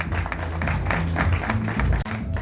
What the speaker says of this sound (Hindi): जोरदार ताली बजती